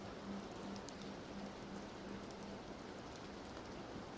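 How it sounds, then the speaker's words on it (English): Steady rain falling, a soft even patter that continues without pause, with a faint low hum underneath and no voices. "Let the rain do the talking for a while."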